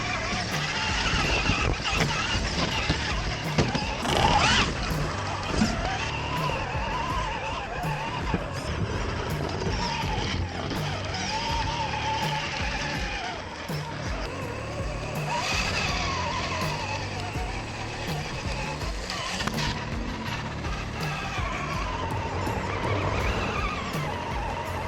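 A cheap RC crawler truck drives over rough ground with its wheels spinning, a continuous whining motor and scrabbling tires that run steadily and close throughout, no talk.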